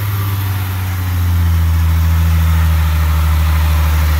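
A supercharged V6 Ford Mustang engine idles steadily up close, with a deep, even drone that swells slightly after the first second and holds loud to the end.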